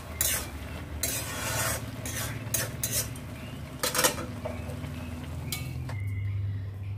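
Cooked bottle gourd being tipped from one pot into another: steady metallic scraping and clinking of a spoon against cookware, with a few sharper knocks, close up and without speech.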